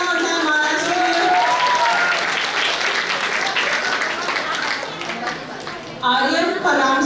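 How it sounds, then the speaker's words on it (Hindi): Loud, sustained applause from an audience at a residents' stage play fills the whole stretch, dipping slightly near the end before swelling again as voices cut through. "एक बार जोरदार तालियां हो जाए महाराज के लिए।"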